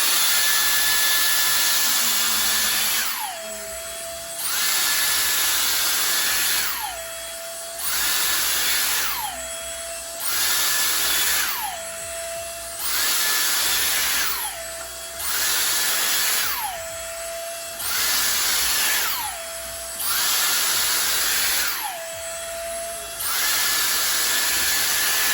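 A Dyson Airstrait hair straightener blowing hot air, its high whining motor cycling on and off roughly eight times, each burst steady and loud, each stop dropping into a falling whine before a short quiet pause.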